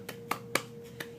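A baby girl claps her hands a few times, giving soft, sparse slaps spaced irregularly over a faint steady hum, close by with no talking.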